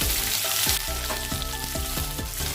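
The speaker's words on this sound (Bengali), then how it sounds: "পটলগুলো দিয়ে দিলাম, আলুগুলোও দিয়ে দিলাম, সব একসাথেই এখন আমি ভাজা করে নেব" Potato pieces and pointed gourd frying together in hot oil, a loud, steady sizzle with repeated clinking stirs against the pan.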